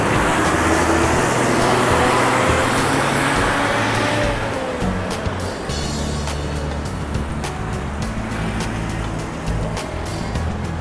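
Road traffic flows along Lat Phrao Road in Bangkok beneath an elevated rail line under construction. Engines keep up a continuous, loud roar, with passing vehicles swelling and fading.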